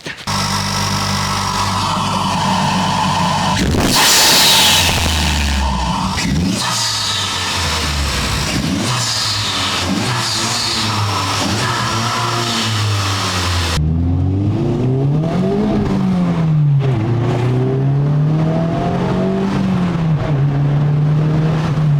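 A 2023 Honda Civic Type R fitted with an aftermarket intake revs up and down repeatedly, its engine note rising and falling loud and close, with a sharp burst of noise early on and no talking.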